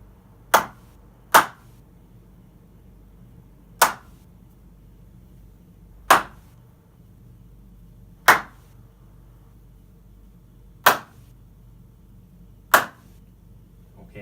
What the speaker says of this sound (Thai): รู้สึกเสียงตอนนี้คือตบแล้วสั้นกระชับมากนะครับก็ไม่มีหางเสียงสักเท่าไหร่นะครับ